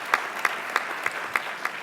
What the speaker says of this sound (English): I think we can give a round of applause for all of them